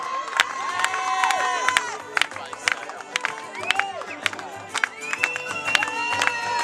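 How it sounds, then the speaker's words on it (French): Spectators clap and cheer at a show-jumping ring in Saint-Lô for regional champions, with sharp claps and rhythmic thuds over a lively crowd murmur and voices. "On peut applaudir beaucoup plus fort."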